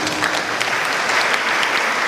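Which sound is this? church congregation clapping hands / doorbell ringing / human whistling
church congregation clapping hands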